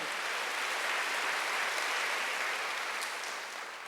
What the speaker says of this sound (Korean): 빨리 박수로 하세요. 더 감사해요.